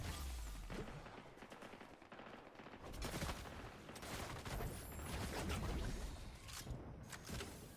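Rapid bursts of video game gunfire crackle continuously at moderate volume, with dense overlapping shots and mechanical clatter and no pauses for reloading.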